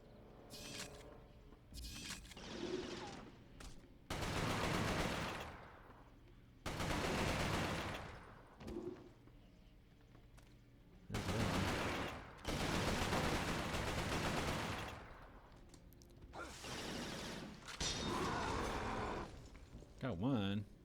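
Hip-fire gunfire in the video game Resistance: Fall of Man on PS3, coming as loud sustained bursts of several seconds each, separated by short lulls with quieter game sounds.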